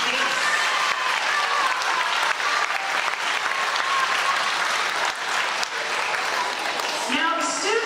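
An audience at a middle school spring orchestra concert breaks into sustained, dense clapping that fills the room for several seconds, with scattered voices and cheers mixed in.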